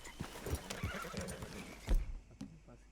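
A horse in the video game Red Dead Redemption 2 gives a loud, close neigh with hoof clip-clops around it, then the game sound drops off near the end.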